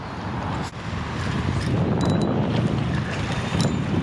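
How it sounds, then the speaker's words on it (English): Strong wind buffets the microphone on a sunny day of striped bass fishing at Randall's Island, New York, with water lapping nearby and a loud, continuous gusty roar throughout. "It's freaking windy, man"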